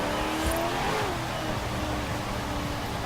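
Pickup truck engine revving in Forza Horizon 4, with a Ford Raptor and Ram Rebel TRX compared, rising and falling engine tones over a rough rumble, close and steady with no talk.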